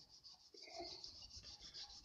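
Sandpaper on a wood lathe, working interlaced-grain wood, gives a soft, steady rubbing hiss with a faint rhythmic pulse from the spinning piece, quiet and close.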